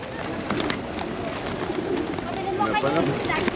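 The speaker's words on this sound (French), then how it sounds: "il y a juste quelques pigeons sur mon chemin" Pigeons on an outdoor path coo softly, barely standing out against steady background noise and nearby voices.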